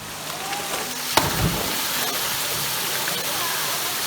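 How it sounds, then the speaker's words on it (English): Rushing water at Imbert Waterfalls spreads a steady broadband roar with no pauses; one sharp splash-like hit stands out near the start as someone slides down, and faint voices sound through the constant noise. "It's my first time to slide down waterfall."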